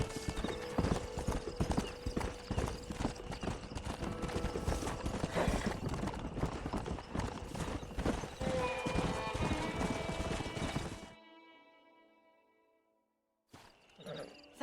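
Rapid hoofbeats clatter in a steady galloping rhythm for about eleven seconds, with a brief neigh mixed in, then fade out into near silence, in the video game Red Dead Redemption.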